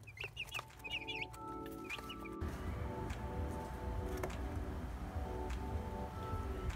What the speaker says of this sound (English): These are 8 broiler chicks that we got roughly 24 hours ago.